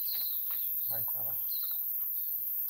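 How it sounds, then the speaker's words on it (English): Morning birdsong, with small birds chirping in short high bright notes and brief trills over a quiet outdoor background, and a voice briefly heard. "Listen to the birds, enjoy the morning, the roosters,"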